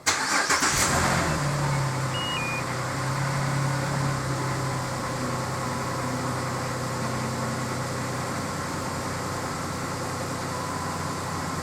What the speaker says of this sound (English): So let's go ahead and start the car up.